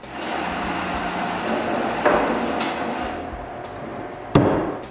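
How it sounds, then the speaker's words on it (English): Nails are driven into a wooden fence on a mitre saw station, with two sharp, distinct hammer strikes over a steady background hum in a workshop. "I place the guides in place and nail the fence through the holes I made."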